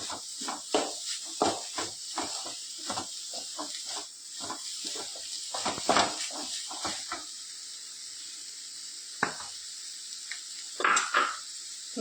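Potato and paneer cutlet mixture being mixed in a hot pan with butter: a steady, close sizzle under repeated scraping and squishing strokes, irregular and bunched, with quieter gaps and a few isolated scrapes near the end.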